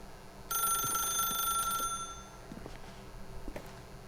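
A telephone rings in the video game The Stanley Parable, one sustained electronic trill of about a second and a half that stops abruptly, followed by a few faint clicks over a quiet background hum.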